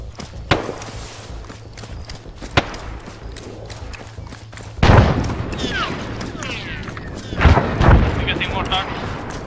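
Gunfire in a video game battle at a camp: scattered sharp shots and thumps early, then a louder burst of heavy firing around the middle and another near the end, with voices talking over parts of the fight.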